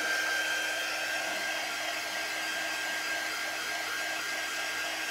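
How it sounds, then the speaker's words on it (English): A quick dry heat tool blowing over a beaded craft frame, a constant close airy whoosh with a steady motor hum and faint whine, unchanging throughout. "I'm gonna grab my quick dry tool."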